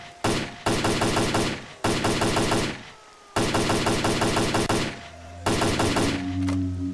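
Rapid bursts of automatic gunfire in S.T.A.L.K.E.R. Clear Sky, loud and close, firing in four separated strings of quick shots with short silent gaps between them.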